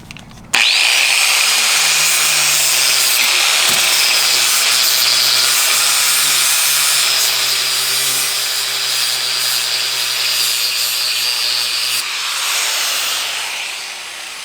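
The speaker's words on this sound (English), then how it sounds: "now we're going to use a flap disc to get rid of some of this paint." A flap disc on an angle grinder strips powder coating from a metal hitch basket, giving a loud, steady abrasive whine that starts suddenly and holds for over ten seconds before winding down.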